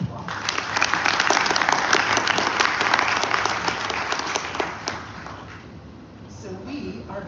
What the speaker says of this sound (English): Please give George a round of applause